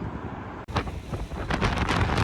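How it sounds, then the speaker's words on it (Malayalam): Strong wind buffets the microphone in a loud, roaring rush that surges after a brief quieter moment. "ഇന്ന് മോർണിംഗ് തൊട്ട് ഇവിടെ ഭയങ്കര കാറ്റാണ്"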